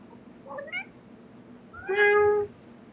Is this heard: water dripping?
no